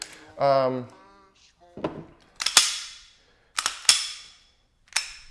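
A Glock 17 pistol has its slide racked to clear it: a series of sharp, loud metallic clacks and snaps spaced over several seconds, close up, with a brief voice at the start.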